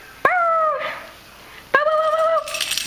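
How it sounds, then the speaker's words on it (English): A dog yelps then holds drawn-out howls, two close, loud wavering calls separated by a short pause. "let me see if I can get him to howl"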